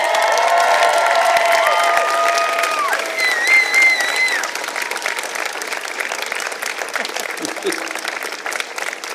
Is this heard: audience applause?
yes